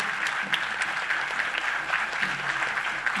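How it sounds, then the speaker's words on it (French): Sustained applause from a crowd at a UNIR party congress in Togo, honouring the party president; dense, even clapping fills the whole stretch with no break, loud and steady. "Des applaudissements pour le président du parti."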